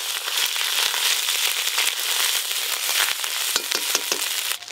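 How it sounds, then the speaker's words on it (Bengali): Ginger and slit green chilies fry in hot oil with whole garam masala, giving a loud, dense, crackling sizzle that runs throughout with scattered sharp pops; no one speaks. "আদা আর কাঁচা লঙ্কা ভালো করে ভেজে নিয়েছি"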